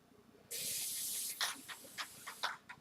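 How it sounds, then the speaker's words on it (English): Clear acrylic sealer hisses out of an aerosol spray can onto ceramic tile coasters, first in one long continuous burst, then in several short quick spurts, close and alone. "you spray it"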